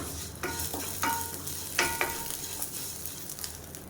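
Curry leaves roasting in a pan make a soft, low crackle and sizzle, with a few sharper scraping stirs of a spatula early on, fairly faint and without voices.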